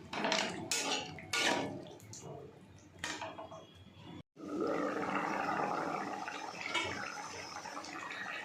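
Clattering pans and utensils come first, then a sudden loud rushing pour of water into a pan of potatoes sautéed with spices for a hilsa fish curry, continuing as a steady splash.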